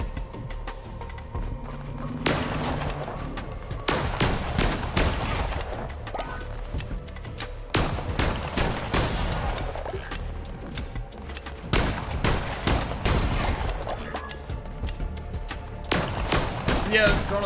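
A blunderbuss fires repeatedly in Cult of the Lamb, each shot a loud, punchy blast arriving in irregular clusters with short gaps between, while a voice talks over the action.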